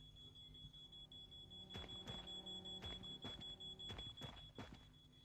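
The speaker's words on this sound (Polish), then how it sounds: "Budzik." An alarm clock rings in the horror video game Paranormal, repeated rapid bursts of shrill ringing in clusters over a steady high electronic tone, fairly faint and heard alone.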